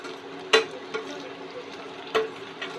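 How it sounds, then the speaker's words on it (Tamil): Brinjal pieces sauté in oil for a Tamil-style pachadi, giving a soft, steady sizzle broken by two sharper spatula taps against the pan. "கத்திரிக்காய் நல்லா வதங்கிட்டு இருக்கு பாருங்கள்"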